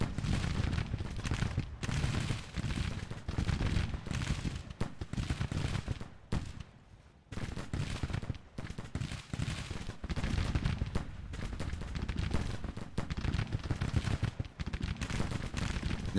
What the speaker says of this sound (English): At least they're shooting.